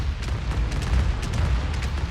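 Dense rumbling gunfire and booming explosions from a Homeworld 3 space battle, continuous low heavy blasts with repeated sharp bursts, loud and unbroken.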